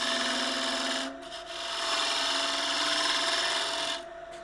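A woodturning tool cuts and shapes a spinning wooden piece on a lathe, making a steady, close scraping rasp that dips briefly twice.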